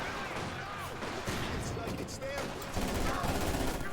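Gunfire in the real-time strategy game Company of Heroes 2, a Soviets versus OKW 2v2 battle: dense, continuous rattling fusillade with machine-gun bursts and distant artillery, with voices talking over it.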